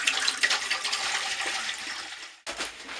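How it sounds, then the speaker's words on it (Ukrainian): Clean water pours into a container for homemade apple brandy, a close, steady splashing stream that briefly stops and then resumes for a moment. "У будь-яку підходящу ємність наливаємо чисту воду"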